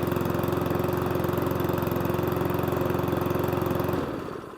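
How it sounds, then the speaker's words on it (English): A Cobra MX460SPC lawnmower engine idles slowly and steadily at close range, a rapid even chugging that carries on unchanged before fading slightly at the end. "Okay, so we're happy the engine actually runs."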